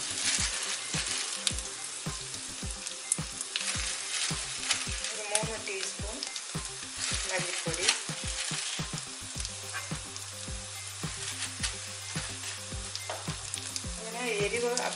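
Coriander powder frying and being stirred into a Kerala chickpea curry (kadala curry) in a pan, a steady close sizzle with repeated scraping stir strokes throughout.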